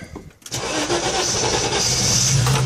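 A Volkswagen LT28 van with a 2.4-litre petrol engine, unstarted for over a week, cranks briefly and then catches, settling into a loud, steady running roar close by.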